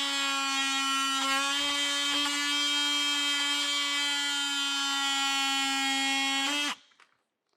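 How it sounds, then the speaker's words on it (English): A small oscillating multi-tool whines with a steady, loud buzz for several seconds, then winds down abruptly into silence. "I'm just going to use a little multi-tool here,"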